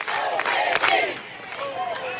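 Sooner softball fans roar and chant together in a packed stadium at a 2019 Oklahoma vs Northwestern college game, a loud, sustained crowd chant with rising voices throughout.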